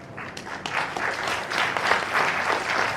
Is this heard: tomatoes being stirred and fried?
no